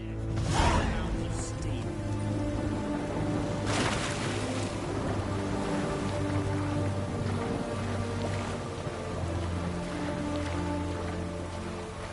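Steady rainfall in the video game The Witcher 3: Wild Hunt, a dense continuous hiss with a few sharper splashes, layered over a low sustained background tone, with no talk.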